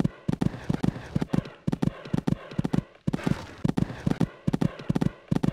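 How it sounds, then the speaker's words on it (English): Horses gallop in the Equestriad 2001 cross-country horse game, their hooves drumming in quick, repeated clusters of clip-clop beats that keep up a steady, driving rhythm, up close and loud. "These two are really galloping now."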